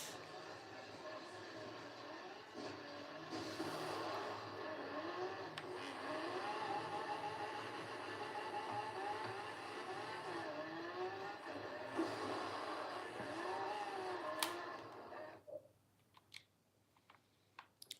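A car engine in the Forza racing video game drones and revs continuously at moderate volume for about fifteen seconds, then drops away into near silence with a few faint clicks.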